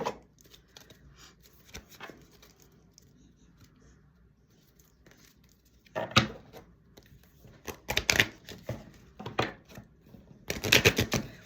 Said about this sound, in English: Botched shuffles again.